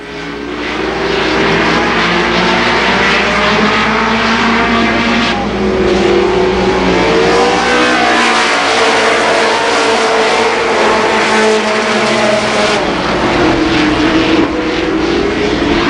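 Late model stock cars roar around Columbus Motor Speedway, a loud sustained engine drone that swells and fades as the pack passes, with no commentary over it.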